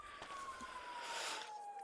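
A police siren in the GTA 5 FiveM roleplay game wails as a steady, faint tone over background game noise.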